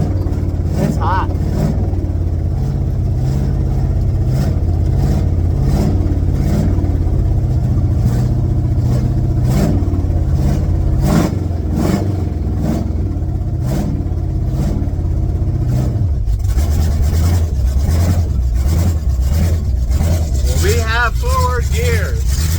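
A 1982 Chevrolet C10 pickup's engine revs hard and steadily while the truck strains at a burnout, a loud continuous drone with bursts of throttle, and voices talk over it near the end.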